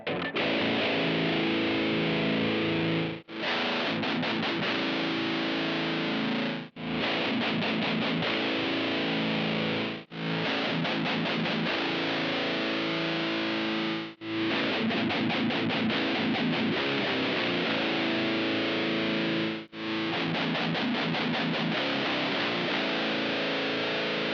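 Heavily distorted electric guitar through a Blackstar Dept. 10 Dual Distortion pedal plays sustained, saturated chords, each ringing several seconds before brief breaks and restrums, loud and alone.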